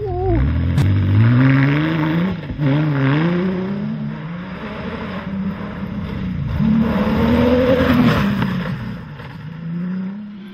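A rally car in an off-road safari championship accelerates through a corner on the final stage, its engine revving loudly and rising and falling in pitch, close and continuous.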